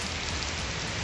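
Sudden rain pours in a steady, dense hiss of drops striking surfaces, loud and even throughout with no voices.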